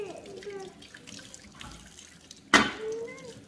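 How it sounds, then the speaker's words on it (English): Raw chicken meat is rinsed under running water in a village outdoor kitchen: a soft, steady trickle with small splashes, then a sudden louder gush and slosh near the end. "We just wash the meat. You wash the meat, and it's ready to cook."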